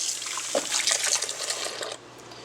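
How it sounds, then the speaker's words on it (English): Ceramic kitchen knives rinsed under a running tap, a steady close splashing hiss of water over the blades with small clinks and splatters, stopping abruptly near the end to leave faint room noise. "And just gently wash off the knives."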